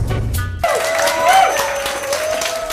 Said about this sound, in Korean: 그녀에게 뜨거운 박수를 보냅니다